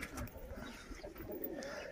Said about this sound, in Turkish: Güvercinler dolu yavru yapmışlar